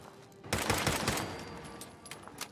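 A burst of pipe rifle gunfire in Fallout 4, a rapid rattling volley that swells suddenly then tapers off into a few scattered sharp shots, loud and near with no talk.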